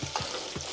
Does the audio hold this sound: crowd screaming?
no